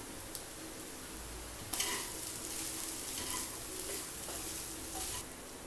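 Garlic rice with ghee is stirred in a pan: a soft steady sizzle with scraping, clicking spoon strokes against the pan that come in a busier run near the middle, no voices.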